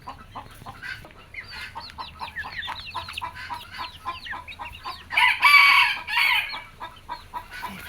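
A rooster crows loudly and close by after a stretch of chickens clucking and chattering, with a faint hum underneath.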